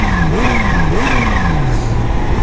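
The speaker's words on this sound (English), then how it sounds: "The coolest thing is that blow-off valve though." A supercharged Kawasaki H2 motorcycle revs loudly and close, its engine pitch sweeping up and down in repeated rising and falling surges with a steady whoosh over the top.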